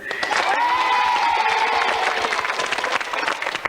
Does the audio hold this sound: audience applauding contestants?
yes